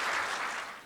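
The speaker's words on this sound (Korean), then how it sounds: "어려운 걸음하신 총장님께 큰 박수 부탁드립니다" A brief burst of audience applause greeting a university president invited to give a lecture at a New Year seminar, a dense patter of clapping that fades slightly toward the end.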